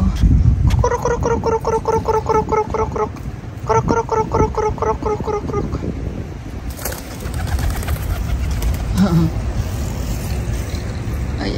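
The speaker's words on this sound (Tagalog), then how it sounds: "Tingnan mo yung si kalapati" Pigeons coo in repeated rhythmic bursts beside a house garden with hydrangeas, the calls fairly close and clear over low background rumble, followed by quieter outdoor ambience and passing noise.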